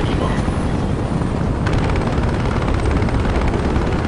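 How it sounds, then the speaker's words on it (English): Steady, loud rotor-like roar of a helicopter in the video game Battlefield Play4Free, with dense gunfire-like crackle layered throughout, continuous and close. "Oh, they're waiting for that helicopter."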